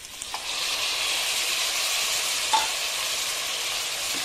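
Tomatoes sautéing in a pan with mint for vegetable biryani, a steady close hiss and sizzle with a few light utensil clicks, no talking.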